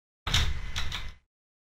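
An exit door in a Minecraft-styled Slender horror game swings open in one sustained, loud creaking-scraping sweep lasting about a second, close and alone with no talk over it.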